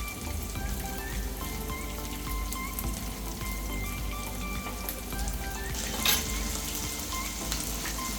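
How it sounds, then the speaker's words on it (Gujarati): Veg cutlet patties shallow-fry in a pan over a medium gas flame, giving a dense, continuous close sizzle that holds steady throughout, with one brief louder spitting burst partway through and no voices. "પેટીસ ફ્રાય થાય છે."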